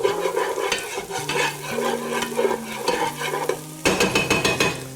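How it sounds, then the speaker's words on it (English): Onions, celery and green pepper fry and sizzle in a pan, with steady loud sizzling and scraping stir strokes throughout and a sharper run of clattering stirs near the end. "We got our onions, our celery, and our green pepper cooking pretty good here."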